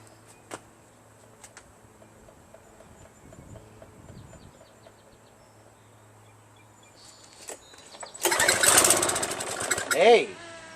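A Craftsman pressure washer engine running off choke stays faint and intermittent for several seconds, then surges into a loud, rough sputtering roar near the end.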